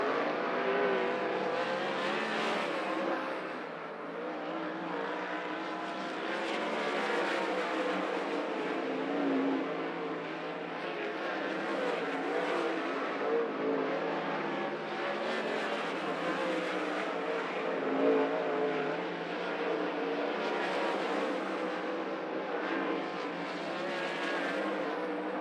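Several 410 sprint cars roar around the track together during hot laps, a dense, continuous engine drone with rising and falling revs as the pack circles, loud and steady throughout.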